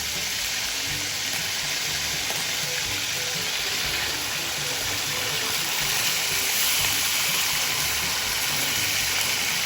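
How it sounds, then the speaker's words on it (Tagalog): Ham frying in a pan, a continuous broadband sizzle, steady and close, with a hissy, crackling texture and no talking. "Magpiprito na po ako mga kadilag"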